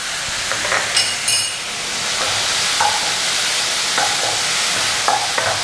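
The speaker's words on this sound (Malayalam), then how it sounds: "നന്നായിട്ടൊന്ന് മിക്സ് ചെയ്യാം" Restaurant-style egg fried rice ingredients are stirred in a hot pan: a constant loud sizzle with rhythmic spatula scrapes and a few metallic clinks, close up and without speech.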